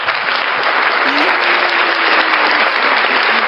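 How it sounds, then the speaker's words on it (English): A small audience applauds, with close, steady clapping and a faint tone and some voices in the background. "A little applause."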